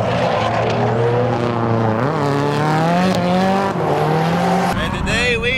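Cars drift at the Tenzan circuit, a ski resort in Saga run as a drift course in summer. Loud engines rise and fall in pitch over continuous tire squeal, close and sustained, with faint talk underneath.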